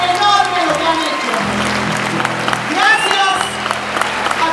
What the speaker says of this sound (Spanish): para quienes pido de verdad un fuerte aplauso